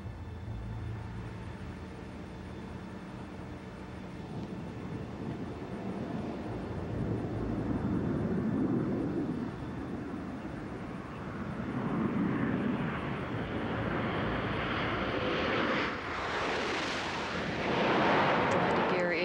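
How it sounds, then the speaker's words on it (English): Space shuttle landing with main gear touchdown on the runway: a loud broad roar and rumble of the orbiter swelling and cresting in several waves, heard without speech. "Landing gear is down and locked. Main gear touchdown."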